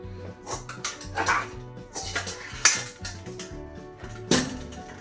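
Metal clatter of a pot lid being picked up and set down, a few sharp clanks among kitchen noise with a low droning background.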